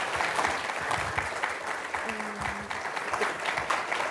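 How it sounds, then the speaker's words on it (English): Audience at a law school panel event clapping for the panelists, a steady and fairly close wash of applause that lasts throughout, with a brief vocal tone in the middle. "join me in giving them a round of applause for their time today"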